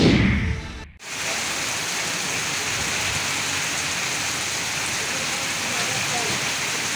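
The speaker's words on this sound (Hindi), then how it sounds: "आज इस्लामाबाद में गरज चमक के साथ बारिश हुई" Steady rain pours down during a thunderstorm in Islamabad, a dense even hiss that follows a short burst of other sound and carries on unbroken and fairly loud.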